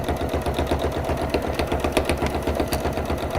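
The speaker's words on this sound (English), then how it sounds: "these straight stitches that you can kind of just let your machine do the work" A sewing machine runs straight stitches through fabric for a zipper pouch, a fast, even mechanical chatter of the needle that continues steadily throughout, close and fairly loud, with no speech over it.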